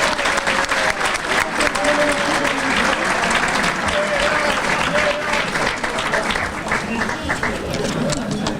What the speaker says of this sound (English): Let's have a round of applause for our Hall of Fame.